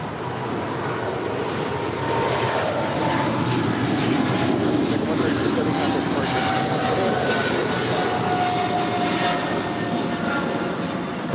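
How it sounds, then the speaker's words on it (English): An Asiana Airbus A350-900 arriving from Seoul on landing approach at LAX, its jet engines giving a steady, loud broadband roar that swells slightly midway and holds throughout. "And that is Asiana 204 coming in from Seoul."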